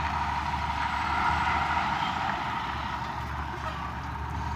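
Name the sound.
dump truck working at a construction site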